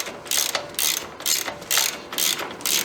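Ratchet wrench tightening a 19mm strut lock nut on a Chevy Traverse front strut, six evenly spaced bursts of rapid clicking in a steady back-and-forth rhythm, close and loud with no voices.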